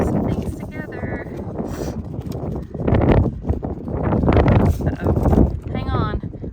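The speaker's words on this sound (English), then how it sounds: "Hang on, we got a big gust." A big outdoor gust of wind buffets and roars across the microphone in loud, uneven surges while someone talks over it.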